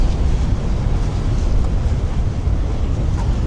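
Wind blowing across the open deck of the Celebrity Apex cruise ship on a stormy transatlantic crossing, a steady loud rushing roar buffeting the microphone throughout, with no voices.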